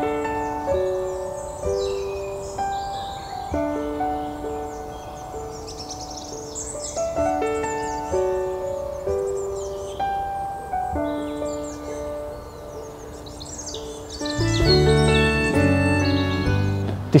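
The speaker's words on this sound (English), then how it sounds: "It's just so noisy with birdsong" Several wild birds sing and chirp with bright, varied melodic phrases that overlap and repeat, loud and close, filling the air with continuous song at a nature reserve.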